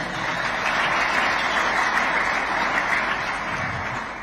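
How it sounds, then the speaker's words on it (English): A crowd at a Catholic men's organization gathering in Owerri applauds an honoree, a steady, continuous wash of clapping that stays even and fairly full throughout. "Please, can we clap for him?"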